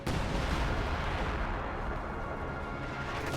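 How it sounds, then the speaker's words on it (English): A sector artillery barrage in Company of Heroes, a continuous loud rumble of shelling that fills the moment and fades slightly toward the end. "Sector artillery"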